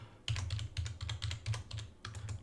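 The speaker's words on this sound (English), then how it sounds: "I can't spell and type at the same time." Fingers type on a computer keyboard in quick, irregular bursts of clicks with short pauses between them, close and fairly quiet, with no voices.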